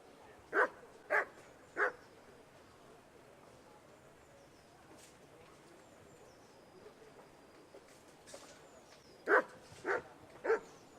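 Dog in the Kingdom Come: Deliverance video game barking in two bursts, three sharp barks near the start and three more near the end, with quiet background between.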